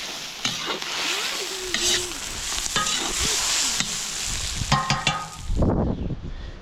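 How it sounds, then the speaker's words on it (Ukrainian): Onion stewing in a kazan over a campfire while pork knuckles cook, a steady close sizzle and bubbling with occasional scrapes and clinks of stirring. "вывариваем цибулю"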